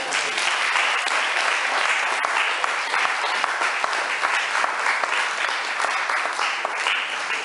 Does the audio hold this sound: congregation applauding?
yes